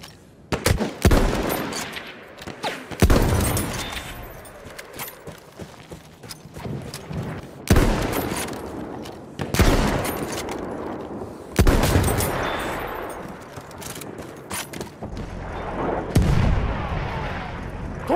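Artillery fire in the video game Battlefield 1, a series of heavy booming blasts and crackling gunfire bursts arriving every few seconds, loud and close with rumbling tails between impacts.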